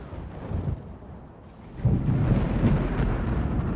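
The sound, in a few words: thunder from an approaching storm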